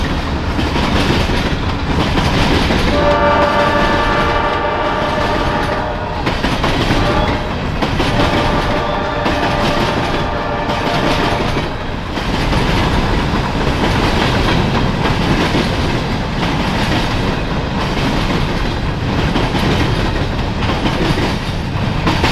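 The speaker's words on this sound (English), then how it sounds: "We would catch our next train at 9:31 a.m. when B158 headed east with Coke empties." Eastbound freight train of empty coke cars rolling past at close range in Deshler, Ohio, a continuous loud rumble with steady clickety-clack of wheels over rail joints and a brief metallic squeal early on.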